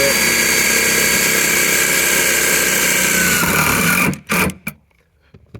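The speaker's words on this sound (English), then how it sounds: "I'm going to see if I can just self-tap this into this pipe" A drill drives a stainless steel self-tapping screw into a pipe on a Honda Pioneer 1000 tailgate stiffener, a loud, close, steady whirring motor that stops abruptly near the end, followed by a couple of short bursts and quiet.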